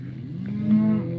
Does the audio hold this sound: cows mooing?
yes